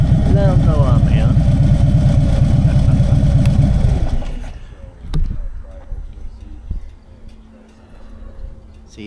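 A car engine hums steadily as the car pulls into a parking place, then the engine noise stops and quieter rustles and knocks follow.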